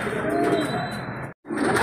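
Racing pigeons coo softly, with a short low burbling call close by.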